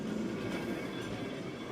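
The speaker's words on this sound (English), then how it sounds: "That's the tram." An old-style wooden tram on a Lisbon street rolls past, a steady rumbling rail noise with faint clatter, fairly close and continuous, no voices.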